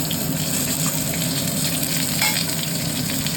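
Cashews and raisins sizzle and fry steadily in a pulao pan, a continuous close crackling hiss with light stirring, no voices.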